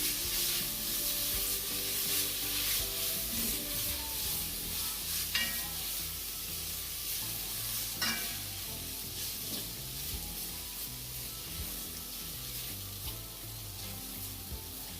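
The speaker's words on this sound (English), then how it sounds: "And I'm going in with 1 tablespoon of my green seasoning. Just going to mix this up a bit." Green seasoning being stirred into sizzling ingredients in a pot while making coconut yellow rice, with a steady fry and soft scraping of the spoon throughout.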